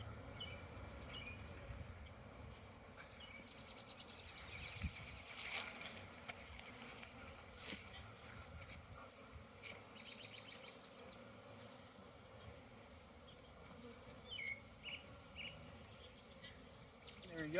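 Honeybees buzz around an open beehive while it is being split, a faint, steady outdoor hum with scattered wing whines passing near and away, with quiet handling noises and no clear talk.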